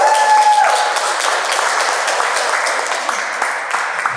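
Applause from a small audience at a Toastmasters club meeting, steady clapping carrying through the whole stretch with a brief tone at the start and voices mixed in.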